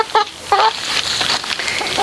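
Chickens cluck and squawk close by, a few short bursts of loud clucking with quieter calls between them.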